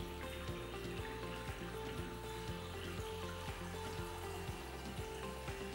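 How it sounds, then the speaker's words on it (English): Water and air purging from opened plumbing fixtures on a freshly filled unit, a steady broadband rush with faint sputtering under a regular low pulsing hum, continuous and moderately quiet. "Now open all fixtures and allow water and air to purge."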